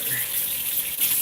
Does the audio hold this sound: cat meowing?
no